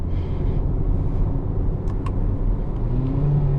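A 2024 Hyundai Kona Limited AWD in sport mode accelerates in third gear, its engine droning steadily with road and cabin noise, no talking.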